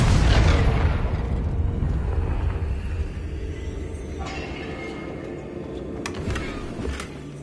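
A Confringo spell blast in Hogwarts Legacy opens with a heavy boom that fades into a long, low rumble, with a few sharp crackles near the end.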